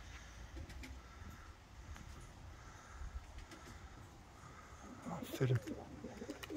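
Pigeons coo softly in a loft, low and faint over a background hum, then brief flutter and louder sounds near the end as the birds land, with someone speaking briefly.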